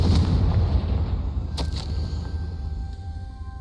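A Confringo fire spell fires in Hogwarts Legacy, a sharp blast about a second and a half in over a low, steady game rumble, followed by a fainter second burst.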